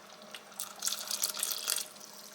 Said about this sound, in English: I am going to add just a little more water to mine.